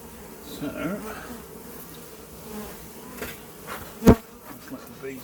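Honeybees buzz in a steady, moderate drone as a hive is opened for inspection, with a single sharp knock partway through.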